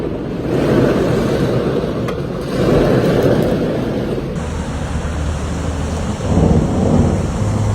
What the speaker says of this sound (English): Severe thunderstorms cause localized flash flooding on the Gold Coast, as massive hail falls in parts of southeast Queensland.